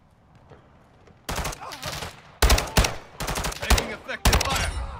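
Bursts of automatic gunfire ring out in Call of Duty: Modern Warfare II's DMZ mode, starting faint and then hitting in loud, close volleys with short gaps between them. A voice can be heard underneath the shooting.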